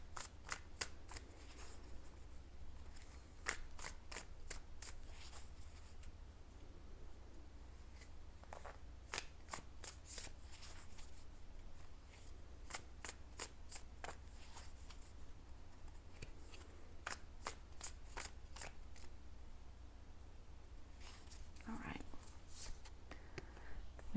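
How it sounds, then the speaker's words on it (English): A tarot card deck is shuffled quietly near the microphone, with repeated crisp riffling bursts and soft card slaps arriving in quick clusters over a faint, low background. "I've already pre-shuffled my deck, but I like to give it a little extra shuffle"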